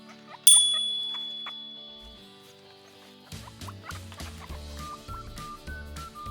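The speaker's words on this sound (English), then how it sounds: "Guinea fowl." Guinea fowl calls set against a bright chime and steady background music, moderately loud with a rhythmic beat running underneath.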